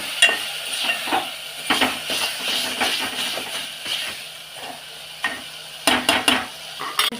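Food fries in a pan until golden brown while a spoon stirs and scrapes it in irregular bursts, over a loud, steady sizzle with occasional sharp metallic clinks.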